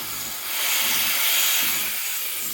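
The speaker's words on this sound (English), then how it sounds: "So purge your wand before steaming." A Sunbeam EM7000 espresso machine steam wand being purged gives off a loud, steady rushing hiss of steam close by, swelling slightly midway and lasting the whole stretch with no talking.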